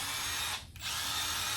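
A Milwaukee M12 Fuel Gen 3 impact driver runs loud and close, a steady high whir that dips briefly before spinning back up.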